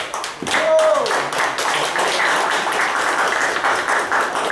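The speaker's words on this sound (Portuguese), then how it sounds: "Palmas para ele, gente!" Audience clapping at a morning poetry gathering for author Hugo Paz at his book launch, a lively burst of close, crisp handclaps that carries on steadily, with voices and a brief whoop mixed in.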